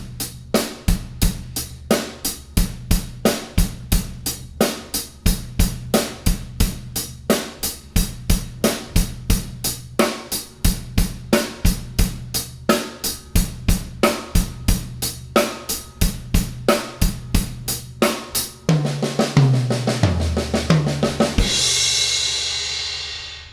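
A drum kit plays a steady groove with punchy bass drum and snare hits, ending in a fill and a washing cymbal crash.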